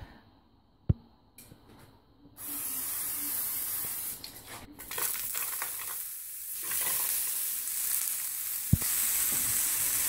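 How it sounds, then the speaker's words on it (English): Food and sauce are stirred in a frying pan during home cooking, with a sizzling hiss and scraping stirs. A sharp knock comes first, then the loud frying runs on steadily. "So I'm going to mix that all up."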